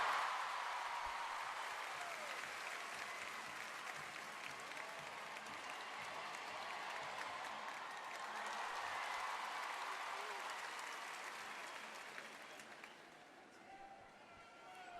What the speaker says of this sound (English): Just listen to the roar of the crowd.